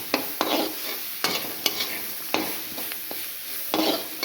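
Spices frying in a pan with a soft sizzle, while a spatula scrapes and stirs in regular strokes, close up.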